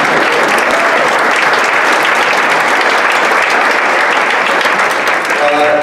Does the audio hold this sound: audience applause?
yes